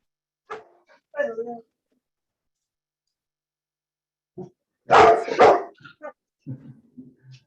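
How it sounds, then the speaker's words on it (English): A pet dog barks a few times in the background of a home video call, short yappy bursts separated by quiet gaps, with people talking around them. "Usually it's my dog, so it's no big deal."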